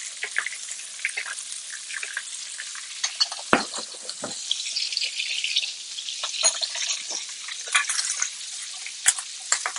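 Butter sizzles and spatters steadily in a hot pan as it is spooned over a steak, a close, continuous crackling hiss with occasional sharper pops and no talking.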